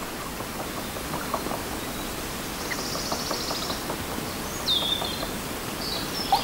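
Chaffinches chirp and a woodpecker calls from the treetops of a woodland, faint and distant over a constant hiss of rustling background noise, with a few thin high notes and light repeated taps.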